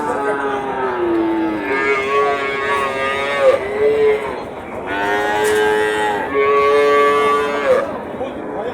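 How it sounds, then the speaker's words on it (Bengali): Cattle at a livestock market in Joypurhat give two long, loud, close moos, one after the other, over a steady murmur of the crowd. "এই যে এই বাছুরটা খুব সুন্দর বাছুর।"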